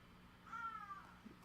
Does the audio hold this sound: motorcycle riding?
no